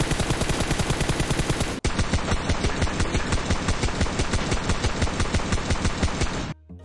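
Rapid automatic gunfire in the mobile battle-royale game PUBG Mobile, loud continuous bursts of evenly spaced shots, briefly cut off near two seconds then resuming just as fast until stopping at the very end.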